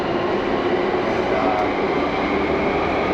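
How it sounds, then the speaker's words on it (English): Steady, loud rumble of a passenger train riding into London, with continuous wheel and carriage noise throughout and no distinct voices. "Here we are on one of the trains going into London."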